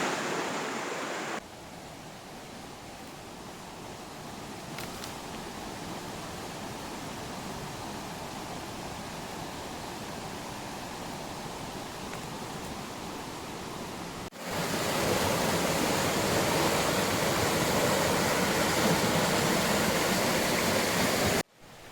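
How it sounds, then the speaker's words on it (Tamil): Steady rushing water on a trekking trail in Chinnar Wildlife Sanctuary fills the clip, a continuous broadband roar that becomes louder and closer partway through. "தண்ணி சவுண்டு சூப்பராக இருக்கு"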